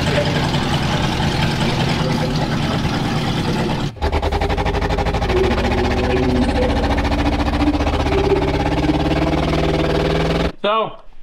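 An old Ford Bronco truck engine cranks, catches and settles into a loud, rough idle with rhythmic low pulsing, near and continuous until it cuts off abruptly.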